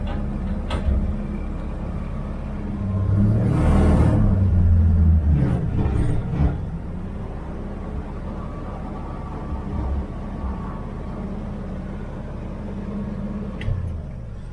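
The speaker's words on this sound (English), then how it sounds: "maybe that exhaust is rattling too." A 1969 Chevy van on the move with a rattling exhaust: a continuous low rumble that swells into a louder, rougher stretch midway, then settles back to a steady drone.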